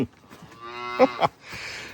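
A calf on a farm gives a couple of short, close moos in quick succession, with light shuffling between them.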